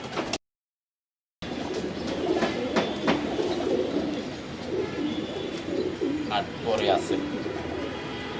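Racing pigeons coo in low, repeated bursts while being handled, with a person speaking over them throughout.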